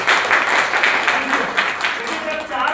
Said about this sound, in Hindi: विष्णु जी के लिए जोरदार तालियां होगी